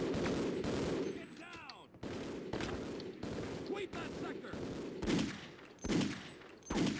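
Gunfire fills a firefight in the video game Half-Life: Opposing Force, with bursts of rapid automatic shots and heavier booming blasts that come in clusters and cut off sharply between them.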